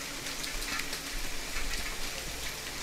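Rain falls steadily in the survival video game The Forest, a dense, even hiss of drops that fills the whole stretch at moderate loudness, with no talk.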